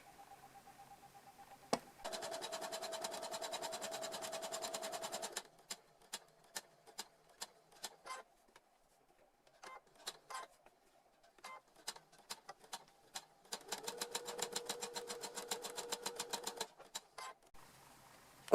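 Sewing machine stitching fabric 5 mm from the edge, running in two long steady buzzing bursts. Between them come scattered clicks and single needle taps where it stops at the corners, close and fairly quiet.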